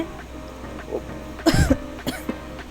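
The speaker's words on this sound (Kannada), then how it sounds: "ನನಗೂ ಕೆಮ್ಮು ಸ್ಟಾರ್ಟ್ ಆಗಿದೆ" A single close cough bursts out over quiet background, followed by a couple of softer throat sounds.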